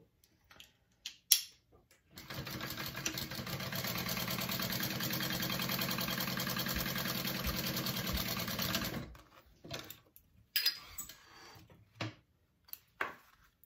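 A sewing machine top-stitches along the top edge of a wallet pocket in a steady run of about seven seconds, with a few soft handling taps before and after.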